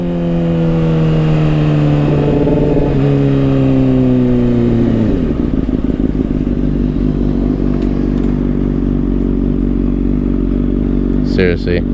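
A motorcycle fitted with a new chain and sprockets is ridden on the road, its engine loud and close as it pulls through the gears, with a drop in pitch at each shift and a steady drone afterward.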